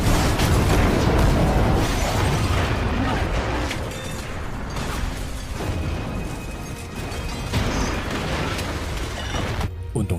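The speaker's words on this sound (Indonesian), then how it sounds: "Morgan dengan sengaja menembak bom yang menyebabkan ledakan besar terjadi" Large bomb explosion set off by a gunshot in an action film, a loud, dense roaring blast with crashing debris that lingers and fades, with voice-over talk across the scene.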